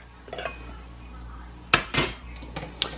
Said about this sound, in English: I'm going to add my meatballs in here now.